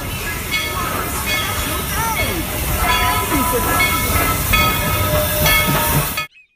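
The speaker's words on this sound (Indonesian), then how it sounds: "Kereta Thomas, teman-teman." Toy Thomas train playing its sounds: a hissing, rumbling engine loop with short whistle-like tones and clicking, close and continuous before cutting off abruptly.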